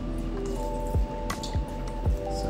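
Worcestershire sauce drips from the bottle into a bowl of Caesar dressing ingredients, three soft squishy plops spaced about half a second apart, close and quiet, with no talk.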